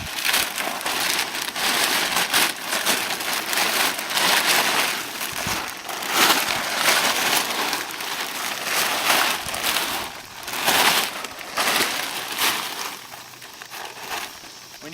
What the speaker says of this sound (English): We're just going to unfold the tarp, figure out where we want to put it.